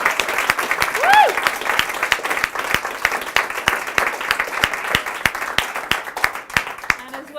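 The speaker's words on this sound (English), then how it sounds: "Huge, huge round of applause." Audience applause after a speaker's talk: dense, steady clapping from a crowd filling the whole stretch, with a brief whoop or whistle rising near the start.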